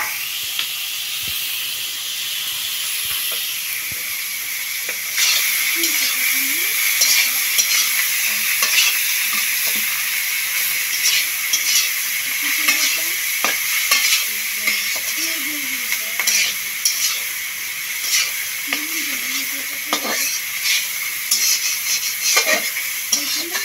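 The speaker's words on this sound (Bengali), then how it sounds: "মেখে কড়াইতে দিয়ে দিবে, দিয়ে ভাজা ভাজা করে তারপরে নামাবে" Clams coated in salt and turmeric fry in a wok, giving a loud, continuous sizzle and hiss, with repeated scraping strokes of stirring throughout.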